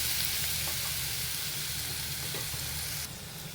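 Green chillies, garlic and coconut sauté in a pan, a close, continuous sizzle and hiss that drops slightly in level just before the end, with no talking.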